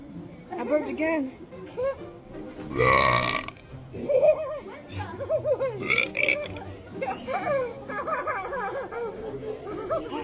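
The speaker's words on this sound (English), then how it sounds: "I burped again." A woman burping loudly in a classroom, several belches scattered among her own talking and quiet chatter and chuckles from others nearby, with one long, heavy belch in the middle.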